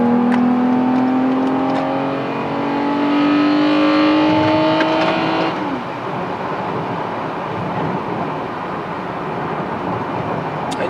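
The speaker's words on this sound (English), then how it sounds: "You get some road noise." A Toyota Camry TRD V6 with shorter gearing accelerates onto a parkway, its engine note rising steadily before settling into a constant cruise with loud road and tyre noise filling the cabin.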